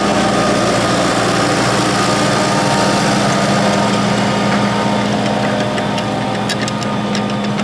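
A 120-horsepower tractor engine runs steadily at a constant loud rumble during ploughing, with a faint ticking rattle near the end.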